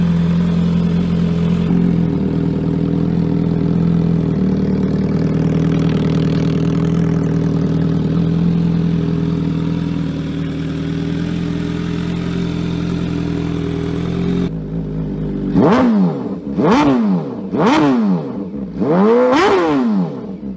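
A 998 cc, 205 hp superbike engine idles with a deep, steady rumble, then barks through several sharp, loud revs in quick succession near the end.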